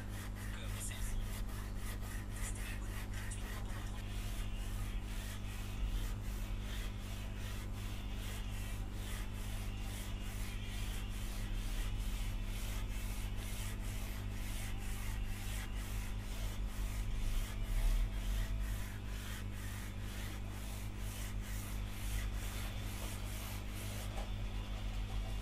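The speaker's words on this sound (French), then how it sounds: "ensuite je descends un grain très fin pour avoir la meilleure finition possible" Fine-grit sandpaper rubs over the wood of a handmade Les Paul guitar, producing quick, rhythmic back-and-forth scratching strokes, close and fairly quiet over a low steady hum.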